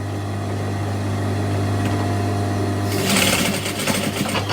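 A sewing machine runs steadily while stitching leather, a constant low motor hum with a busier, louder burst of rapid needle chatter near the end.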